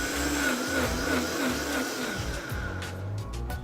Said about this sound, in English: We just put it in the blender and press play.